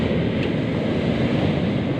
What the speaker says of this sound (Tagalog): Grabe, lalaki ng alon.